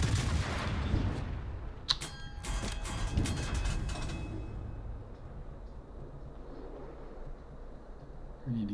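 Warship guns fire in the naval battle game World of Warships, a dense run of booming, crackling shots over a rumbling engine bed that fades into a lower steady drone.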